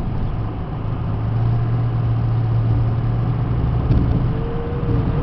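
A Ford F550 stake body 4x4 diesel truck accelerates along a road: a steady, loud low engine drone that stays continuous throughout, with a faint rise in pitch near the end and no talking.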